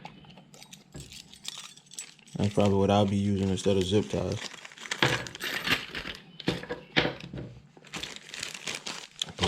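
A plastic bag crinkles loudly as small car parts and hose clamps for a catch can install are packed back in, bursts of rustling alternating with someone talking close by.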